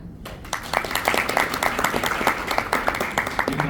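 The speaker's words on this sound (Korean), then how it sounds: "다시 한번 박수로 맞아주시기 바랍니다" An audience at a security summit claps to welcome a speaker. The applause starts abruptly after a brief quiet moment, then continues as dense, close, individually distinct hand claps at a lively, even level.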